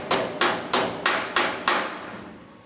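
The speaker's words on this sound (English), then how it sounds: "you can see how that metal goes down if you hit it a few times with a hammer" A hammer strikes sheet metal during repair of a rusty car's lower front outer sill: six sharp, ringing blows land at a steady, even pace, each fading quickly, close and fairly loud with no talking.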